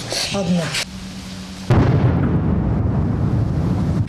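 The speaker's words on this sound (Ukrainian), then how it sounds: "Під вибухи потужних снарядів" A loud, deep artillery shell explosion bursts in and leaves a long rumbling roar, preceded by a short moment of distant voices.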